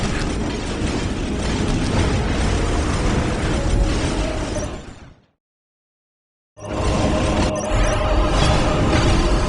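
Orbital bombardment strikes in the strategy game Dawn of War Dark Crusade, rendered as a loud, dense wall of rumbling explosions and crackling debris that cuts to abrupt silence for about a second, then resumes just as heavy.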